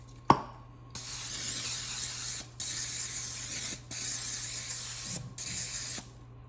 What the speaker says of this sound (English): Get a square 8x8 pan and make sure to spray that.